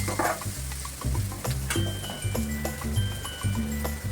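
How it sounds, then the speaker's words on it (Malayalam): Ginger and garlic paste frying in a pan for a fish dish and stirred vigorously: a loud, continuous sizzle with rhythmic, repeated spatula scrapes and knocks close up. "ഇനി അതിലേക്ക് ഇഞ്ചി പേസ്റ്റ് കുറച്ച്, വെളുത്തുള്ളി പേസ്റ്റ് നന്നായി ഇളക്കി കൊടുക്കുക."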